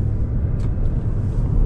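A 2022 Fiat 500e electric car rolls along the road, giving a low, steady rumble of tires and road noise heard from on board with no engine note.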